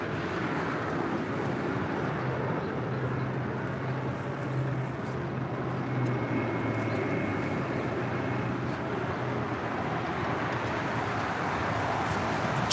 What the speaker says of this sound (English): Japan Airlines 777-300ER, short final for 24 right there on the north side